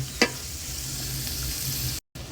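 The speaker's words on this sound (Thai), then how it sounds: "หน่อไม้ใส่ไปเลยครับผม นอไม้ต้มแล้วนะครับผม เดี๋ยวเราผัดไปได้สักครู่นึงก่อนนะครับ" Boiled bamboo shoots stir-fried in a pan, a steady close sizzle with one brief scrape of the utensil early on and a short dropout near the end.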